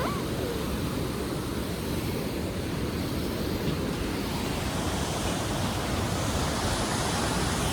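Rushing water sprays on the Kedarnath pilgrimage trek: a loud, steady, broadband roar with no break, close and constant like a torrent or waterfall right beside the path.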